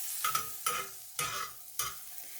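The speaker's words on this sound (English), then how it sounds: "Add some butter to toast the other side as well." Bread slices toasting in butter in a frying pan, heard as bursts of sizzling and scraping, about four strokes as the slices are moved or flipped, close and fairly quiet with no talk.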